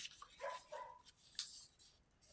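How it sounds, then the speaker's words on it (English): A dog barking outside in the street, a few short distant barks and whimpery yips, faint and intermittent. "there's a dog in the street barking"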